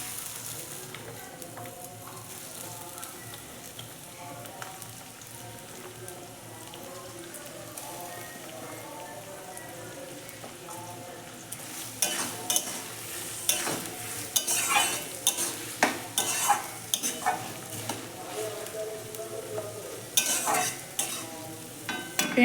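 Sliced onions frying in hot oil in a wok, a soft steady sizzle at first, then louder scraping stirs and crackling sizzle in irregular bursts during the second half.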